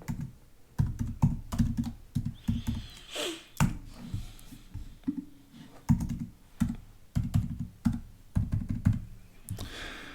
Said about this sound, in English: Be original, just type in John Smith